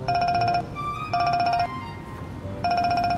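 A phone ringtone chimes in three repeated bursts with short gaps between them, loud and close, a bright synthetic melody heard alone without voices.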